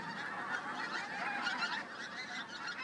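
A flock of geese honks near their roost on a marsh in a dense, continuous chorus of overlapping calls, loud and close, with no talking.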